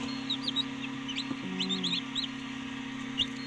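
Newly hatched chicks in an automatic incubator peep in quick high chirps, several overlapping at close range over a steady low machine hum.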